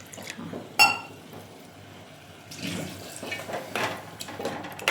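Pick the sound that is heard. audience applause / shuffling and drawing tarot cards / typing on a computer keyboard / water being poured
water being poured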